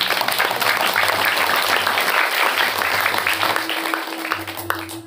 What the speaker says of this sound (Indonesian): Tepuk tangan untuk Darul Rahmah hari ini.